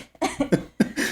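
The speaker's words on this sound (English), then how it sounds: "You had to cough." A few quick, close coughs burst out one after another in a quiet room during a casual conversation, with no talking over them.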